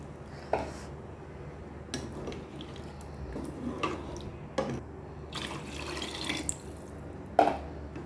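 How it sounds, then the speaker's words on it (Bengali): Water is poured into a pot of cooking beef curry, with close, quiet splashes and drips coming in short bursts over a low background, and no one speaking. "এখন আমি পানি অ্যাড করে দেব এর মধ্যে।"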